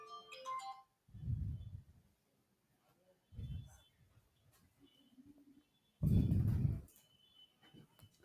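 A mobile phone ringtone goes off during a Hindi-language class lesson, a short bright melodic ring at the start, loud and close, followed by someone speaking in bursts with quiet gaps.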